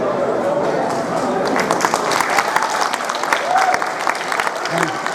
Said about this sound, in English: I have no problem with applause whatsoever